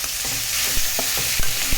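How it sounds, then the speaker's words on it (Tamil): Onions sautéing in a pan for a chicken curry, a steady sizzle with a few soft spoon-stirring knocks scattered over just under two seconds, close and fairly loud, with no talking. "வெங்காயம் போட்டு நல்லா வதக்கி கொடுத்துக்கோங்க"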